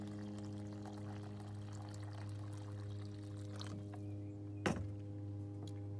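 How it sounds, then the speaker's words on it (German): Boiling water pours from a kettle over a bouillon cube to make half a litre of quick chicken broth, a steady close stream ending in a short knock near the end, with no voices. "Jetzt mache ich die schnelle Hühnerbrühe, indem ich einen Brühwürfel mit kochendem Wasser übergieße,"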